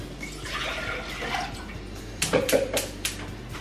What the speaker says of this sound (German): So, Wasser habe ich jetzt schon rein.